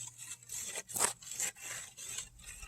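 A metal rake scraping through loose dirt on a pump track, several rough rasping strokes in a quick uneven rhythm, close and moderately loud, with no talking.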